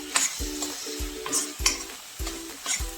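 Carrot halwa thickened in a pan is stirred with cardamom powder and dry fruits, giving repeated scraping stir strokes about every half second over a soft, steady sizzle, close and moderately loud with no talking.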